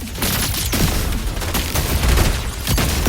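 Grenade explosions and gunfire in a Wuthering Waves Cyberpunk collab battle, a dense continuous barrage of loud blasts and shots with sharp bursts throughout.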